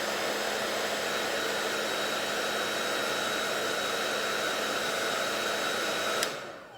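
A small blow dryer drying a first coat of mascara on lashes, a loud steady whooshing hum running close and unbroken before abruptly switching off near the end.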